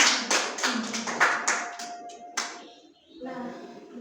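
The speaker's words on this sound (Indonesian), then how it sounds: "ya beri tepuk tangan kepada Anda semua" A class of children in an Indonesian lesson claps in a short, uneven burst of separate hand slaps, fairly close, followed by a brief voice and a few scattered claps trailing off.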